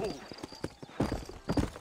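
Horse hooves clip-clop in a steady rhythm in Red Dead Redemption as riders leave town in New Austin, the thudding steps close and moderately loud, with a brief whinny and a voice talking over them.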